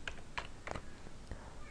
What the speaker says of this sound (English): I'll just type in Winamp,